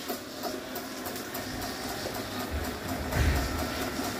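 A Caloi treadmill motor on a repair bench starting to run, a low steady mechanical hum and rumble with rhythmic rattling that swells slightly near the end.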